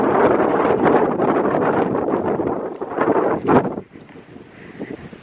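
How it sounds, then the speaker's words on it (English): Steady wind buffeting a microphone on a grassy hill trail walk, a loud continuous roar that dips briefly near the end. "I don't even know if my voice can be heard in this vlog with this amount of wind."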